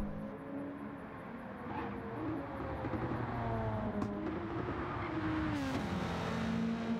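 A GTO race car circles the racetrack in a time trial, its engine droning and shifting pitch as it revs and accelerates, moderately near, with a brief whooshing pass toward the end.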